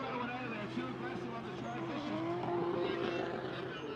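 A high-revving 580 wheel horsepower drift car engine roars steadily at a distance during competition qualifying, its pitch rising and falling with tire noise underneath.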